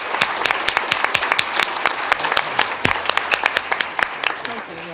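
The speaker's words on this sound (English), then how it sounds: "I'd like to give him some applause as he leaves." Audience applauding at a special joint meeting of a city council and county board of supervisors, a fairly loud burst of dense clapping with sharp individual claps standing out, continuing for several seconds before tapering off.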